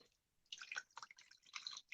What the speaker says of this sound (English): I'm just going to pour that, about a cup of it,